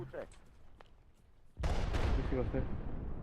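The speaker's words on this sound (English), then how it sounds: "Artillery strike incoming." Arma 3 artillery strike: a sudden loud blast opens into a sustained roaring, crackling explosion rumble, close and heavy, following quieter scattered pops and faint voices.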